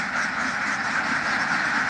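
A large flock of about 1200 ducks at a duck farm in Dashmina, Patuakhali, a dense continuous quacking chorus, steady and moderately distant.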